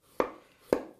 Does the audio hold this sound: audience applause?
no